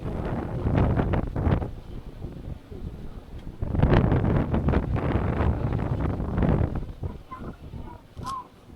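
Strong wind buffets the microphone atop a hilltop tower at Malshej Ghat during the monsoon, coming in loud roaring gusts with calmer gaps between them.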